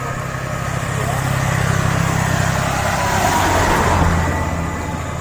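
Cars speed past along a road cut through a hill, a steady loud engine and tire roar that swells toward the end as a vehicle passes close.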